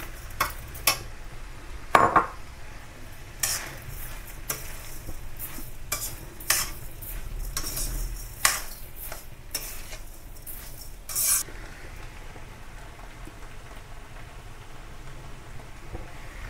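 Sugar being stirred into water in a pan while making puran poli, a scraping, swishing stir with irregular clinks and strokes over a faint sizzling background, close and moderately loud, no talk.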